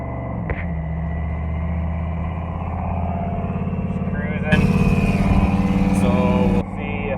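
A truck fitted with a Bosch FST-8213 boost gauge runs warm at idle on a test drive, a steady low engine drone that rises louder and rougher midway before easing back, heard from inside the cab.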